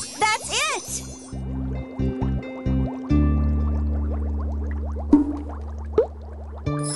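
Rainbow water poured into a cauldron in a Shimmer and Shine genie potion game, a series of short bubbly liquid filling and dripping effects in bursts, then a longer sustained pour with a couple of sharp splashy plops.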